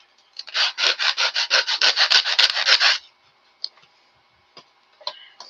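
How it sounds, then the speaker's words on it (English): Quick back-and-forth sandpaper strokes on wood during a model airplane build: about fourteen close, rhythmic rasping passes over roughly two and a half seconds, then near silence with a few faint taps and handling noises. "Always more sanding."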